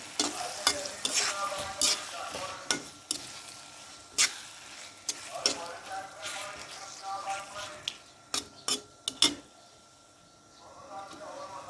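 Carrots going into a pan of frying rice biryani and being stirred, giving repeated scraping clatters over a steady sizzle at close range, with short pauses between strokes.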